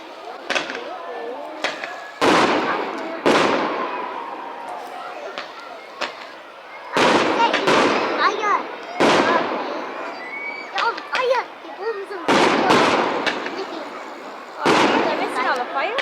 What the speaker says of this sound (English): They're missing all the fireworks.